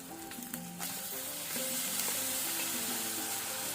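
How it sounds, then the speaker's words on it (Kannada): Chopped tomato fries in a hot pan with ginger garlic paste, a loud, steady sizzle with occasional stirring scrapes throughout, close and without talk. "ಈಗ 1 ಟೊಮೆಟೊ ಹಾಕೊಳ್ತೇನೆ."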